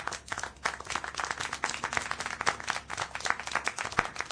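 Applause in Syberia: The World Before, a steady burst of many hands clapping at a grand opening, fairly dense and even throughout, heard alone without talking.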